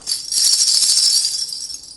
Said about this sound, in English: Jingle bell